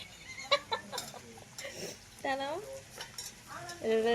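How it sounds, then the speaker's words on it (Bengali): Goat meat scraps cook in a pan, with clattering stirs and a low sizzle under close talking, while hens cluck nearby. "আমার মা এখন খাসি ছাট রান্না করছে"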